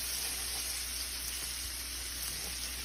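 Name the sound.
onions sauteing with black pepper and salt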